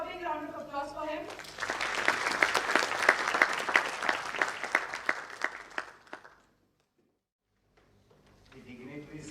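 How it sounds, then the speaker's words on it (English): Applause from a conference audience welcoming a speaker at an inaugural address, following a spoken introduction. The dense, loud clapping sustains for several seconds, then fades to silence before talk resumes. "Let's have a big round of applause for him."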